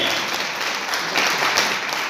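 Brief burst of steady audience applause at a Modicare seminar in Bihar, even and moderately loud for about two seconds, with no voices standing out.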